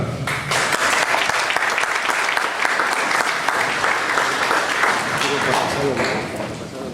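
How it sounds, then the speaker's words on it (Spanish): Loud, sustained applause from a large audience, steady clapping filling the room for several seconds, with faint voices mixed in. "quisiera nuevamente que lo recibamos con fuertes aplausos"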